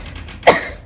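A single sharp cough, close and loud, bursting out briefly over a low background hum.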